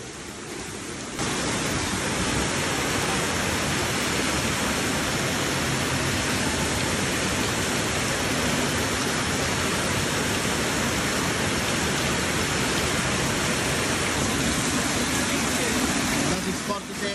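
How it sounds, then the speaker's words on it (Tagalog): Heavy typhoon rain pours down steadily as a loud, dense, continuous hiss during Typhoon Carina, with floodwater rising; a voice speaks faintly beneath the downpour. "Lalong lumakas yung ulan, mataas na yung tubig."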